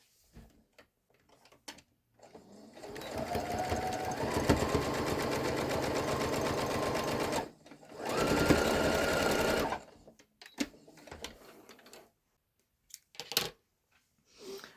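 A sewing machine stitches along the edge of a stuffed puzzle pillow in two runs, a steady whirring hum lasting several seconds, then a shorter burst, with small clicks and handling noises around them.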